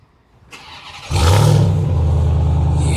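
A 2021 Ram TRX pickup truck's engine fires up and settles into a loud, deep, steady rumble up close, building from a quieter start.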